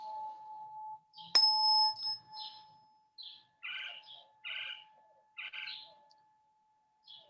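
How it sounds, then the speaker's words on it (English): Outdoor birds give short bursts of chirps and tweets in separate clusters, fairly clear against quiet, alongside a steady electronic tone and one sharp ding near the start. "Sounds like all the birds are showing up."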